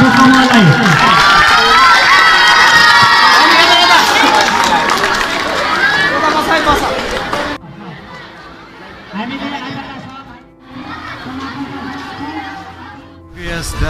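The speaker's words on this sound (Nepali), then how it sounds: "ताली बजाएर धन्यवाद दिउँ बधाई भनौँ हाम्रो समूहलाई" A school audience at a Lok Dohori competition in Nepal cheers loudly and whoops for the winning group, children shouting over crowd chatter, then the noise drops to quieter, intermittent crowd sound.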